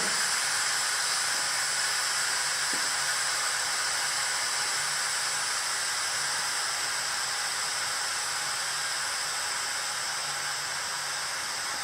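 Steam hisses steadily out of an Instant Pot pressure valve after the valve is flipped open during cooking of chicken adobo, a loud, constant rushing release that runs without a break and without talk.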